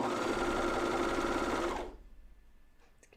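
A coverstitch sewing machine stitches pajama tops with a fast steady motor whir and needle chatter, close and loud, then stops abruptly, leaving faint handling clicks.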